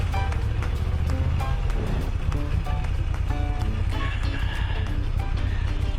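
A 2021 Moto Guzzi V7 850 Special ridden through South London traffic gives a continuous low engine rumble with wind buffeting, steady and close, with passing street noise layered on top.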